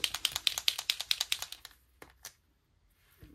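Rapid rhythmic rattling of a white Posca acrylic paint marker being shaken, about a dozen quick clicks, then a pause and a couple of separate taps.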